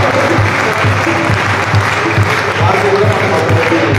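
Steady, loud applause from a crowd fills a church hall during a Christmas celebration, continuous clapping with a voice faintly present beneath it.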